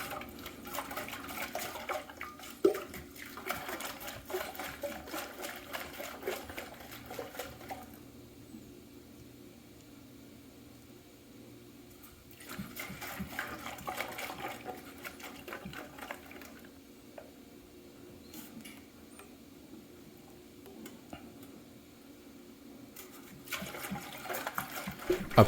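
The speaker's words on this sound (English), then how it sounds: "Here's a shake test to give you an idea of what to expect." Liquid sloshes inside a Yeti 64 oz (1.9 liter) pitcher shaken in repeated bursts, a faint, hissy splashing that comes and goes over about twenty-five seconds.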